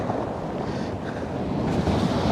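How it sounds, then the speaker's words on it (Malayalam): Sea waves wash in at the beach below Bekal Fort in Kerala, a steady, full roar of surf with wind buffeting the microphone and no voices. "ഇതിപ്പോൾ തിരമാല വരുന്നുണ്ടോ നോക്കിയാൽ കാണാം."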